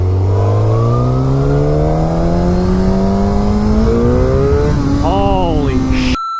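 Suzuki GSX-R1000 liter-bike engine revving hard under acceleration, a loud, close rising whine that climbs steadily through the gears with brief dips at shifts, then cuts off abruptly near the end.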